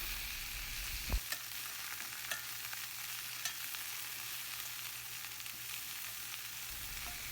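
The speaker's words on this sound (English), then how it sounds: "Mix all these ingredients gently." Okra with turmeric and salt stirred in a pan, a steady broadband frying hiss with faint scraping and a sharp knock near the start, no voices.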